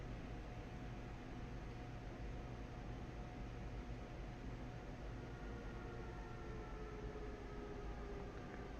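A rapid transit train in the Train Sim World game runs with a steady, continuous broadband rumble and hum, unchanging and fairly faint throughout.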